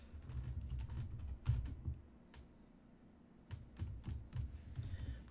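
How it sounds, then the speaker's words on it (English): Bursts of keystrokes on a computer keyboard, close and fairly loud, come in quick irregular clusters separated by short pauses in a quiet room. "Just typing it in here."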